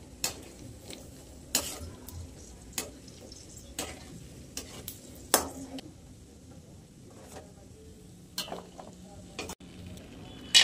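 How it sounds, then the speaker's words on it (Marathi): Almonds roast and fry in a pan, a faint, quiet sizzle broken by scattered sharp ticks and clicks as the nuts are stirred and knock against the metal. "बदाम भाजून घ्या, तळून घ्या आपण."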